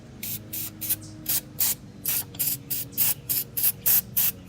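Aerosol parts cleaner sprays onto a wheel bearing in a rapid series of short, hissing bursts, about a dozen quick blasts close by with brief pauses between.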